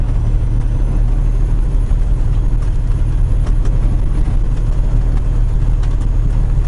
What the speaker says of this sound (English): The engine makes all its racket until I push the clutch in